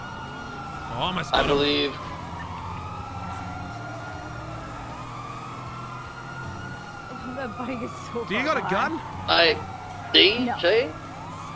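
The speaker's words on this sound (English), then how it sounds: "I hear the sirens. I hear them." Emergency vehicle sirens wail in a GTA V roleplay game, several overlapping sweeping tones rising and falling steadily in the background while people talk in short bursts over them.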